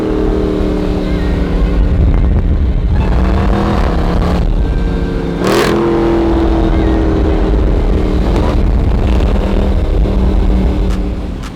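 A Jeep Grand Cherokee Trackhawk revs hard nearby, its supercharger whine riding over a loud, rough exhaust roar that rises and falls through several throttle blips and one sharp crackling burst.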